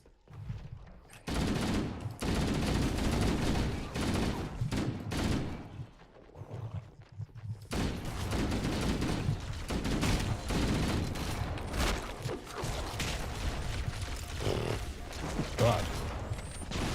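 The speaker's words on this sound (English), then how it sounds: "I don't have enough ammo for my shotgun, so I just go with the rifle." Rifle gunfire in the video game Halo: Combat Evolved, rapid bursts of automatic shots coming in long volleys with short pauses, loud and close amid other battle noise.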